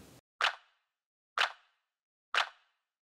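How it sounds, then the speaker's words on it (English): Sharp, bright clap sample from a house music beat, struck three times at an even, spaced pulse with short decaying tails and silence between hits. "So first up we've got this clap."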